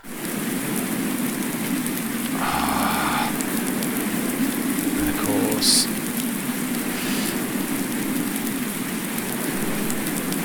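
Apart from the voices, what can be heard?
rain falling in a farming video game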